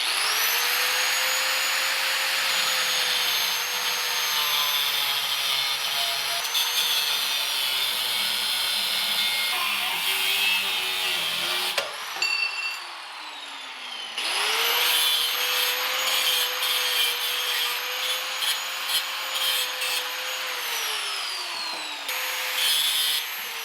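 An angle grinder cuts aluminum for custom work on a Mule utility vehicle, a loud continuous high whine with its pitch sagging under load, briefly dropping out near the middle before resuming strong.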